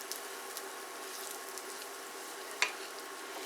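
A sausage gravy roux of flour and sausage fat sizzles steadily in a pan, an even close crackle with one brief sharp clink of a utensil partway through.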